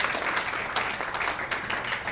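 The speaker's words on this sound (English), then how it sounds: "a round of applause to this couple" Guests at a 60th birthday party applaud a couple, a steady crowd clapping sustained evenly throughout.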